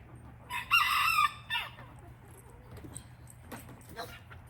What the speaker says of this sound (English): No escaping chickens today, please.